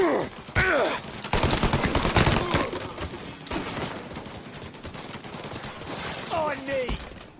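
Gunfire erupts in the Mafia Definitive Edition video game, with loud overlapping bursts of shots and a sustained fusillade, mixed with shouting voices and groans from the characters.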